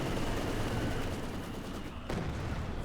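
Heavy mortar barrage in Company of Heroes 2, a dense continuous rumble of explosions and distant gunfire filling the whole stretch, with a sharper burst near the end.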